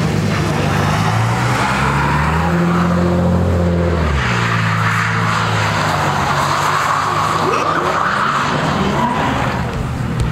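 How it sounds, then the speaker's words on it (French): An Infiniti G37S sports car drives hard in a drifting takeover, its engine roaring loud and close with tire skidding and revving that rises and falls continuously throughout. "Infiniti G37S, la voiture parfaite pour faire des takedowns."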